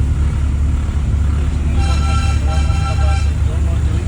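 A car rolls along a hilly Darjeeling road behind slow buses, with a steady engine and road rumble throughout and a faint higher tonal whine rising briefly midway; a voice seems to murmur under the noise.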